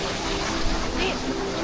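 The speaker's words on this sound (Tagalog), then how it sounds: "Malakas yung alon yun kasi maulan." Strong water at the Antipolo waterfalls in rainy weather makes a constant, loud rushing roar with no break, and a voice is faintly heard within it.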